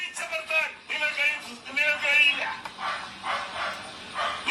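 A dog barks repeatedly in short, sharp bursts somewhere behind, fairly clear and spaced about a second apart.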